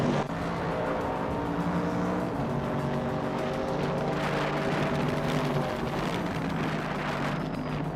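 A 1971 Puma GTB race car in a racing video game holds a steady, loud engine drone with layered harmonics that swell and shift as it drives, with no talking.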